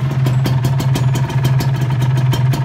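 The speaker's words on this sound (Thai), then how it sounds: "ฟังเสียงเครื่อง" A rebuilt car engine with all-new bearings and connecting rods idles close and loud, a steady low throb with an even, quick rhythmic pulse and no talking over it.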